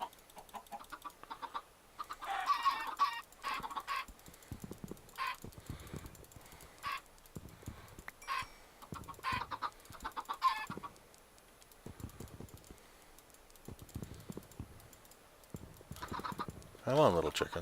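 Chickens in the video game Agrarian Skies cluck in repeated short bursts, some close and fairly loud, others fainter, with scattered soft in-game noises between them.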